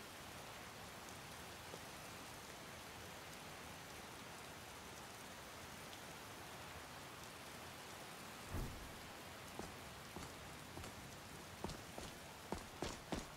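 Rain in the video game Skyrim, in a modded playthrough: a steady, even hiss of rainfall runs throughout at a faint level, and sharper drips or taps pop up more often toward the end, with no talking.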